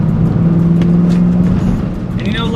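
A Ford Mustang S197 with a live rear axle, pushed hard through corners, its engine note droning steadily and loud with slight pitch shifts, tire and wind noise around it and no talk.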